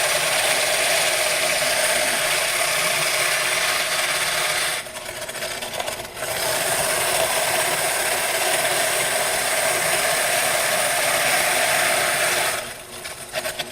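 A KitchenAid stand mixer with its shredder attachment whirs and rattles steadily at close range, pausing briefly twice before starting up again.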